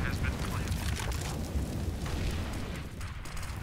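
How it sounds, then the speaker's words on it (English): A grenade bursts on a bomb site during a Counter-Strike match on the Cache map, heard as a dense, rumbling blast with crackling debris spread across the whole stretch, loud and close. "Nade goes onto the site, does a little bit of extra damage."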